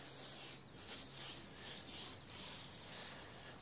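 A cloth rubs Chemical Guys high shine dressing onto a car surface, producing soft rhythmic swishing strokes, close and quiet, repeating about every half second with no voices.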